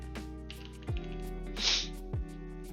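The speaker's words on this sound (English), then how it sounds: "Sniff, sniff." A person gives one short, breathy sniff partway through, heard over a steady low hum and faint background tones indoors.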